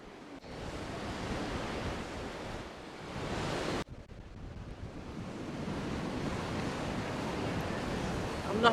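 Strong wind blows across a beach in Spain in a steady, close roar. It buffets the microphone with broad rushing noise and has a brief dropout partway through.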